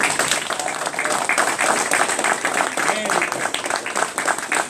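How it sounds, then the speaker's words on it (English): Applause from a group of coworkers at a farewell gathering on an offshore gas platform, dense and steady clapping throughout with voices mixed in. "Give him a big round of applause, guys."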